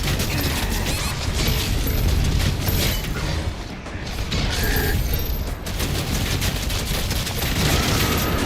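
Rapid gunfire from a weapon in the video game Doom The Dark Ages, a dense continuous barrage with mechanical clanks and booms, loud and sustained throughout.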